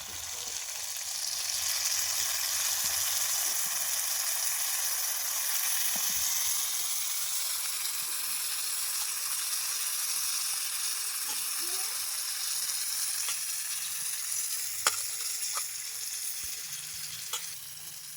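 Red amaranth greens sizzle and fry steadily in a pan as mustard paste is added, a constant loud close hiss with occasional stirring clicks.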